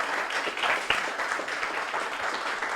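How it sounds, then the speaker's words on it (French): Audience applause at the close of a legal-tech masterclass, a steady wash of many hands clapping at moderate distance, continuous for the whole stretch with a few sharper claps standing out. "je crois qu'on peut s'applaudir"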